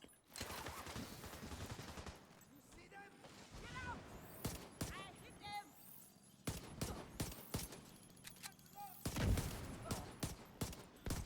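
Desert Eagle pistol gunfire in The Division 2, sharp close shots fired in irregular bursts among other gunfire and game effects, with someone talking over parts of it.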